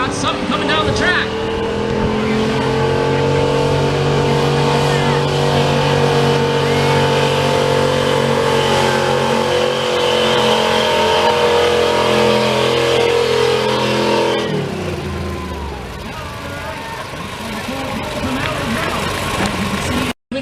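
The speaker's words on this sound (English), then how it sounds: "I think we got something coming down the track." Diesel pulling truck, a Dodge, roars down the track at a truck pull event, its engine revving loud and steady for about fourteen seconds before the note drops away, with crowd noise and talk underneath.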